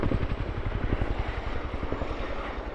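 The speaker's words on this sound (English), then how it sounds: "As the aircraft flies past the landing site, Coots will quickly snap the aircraft away" RAF Chinook HC.6 twin-rotor helicopter flying past at an air display, a loud steady rhythmic rotor thump with engine roar, close and sustained, no talk.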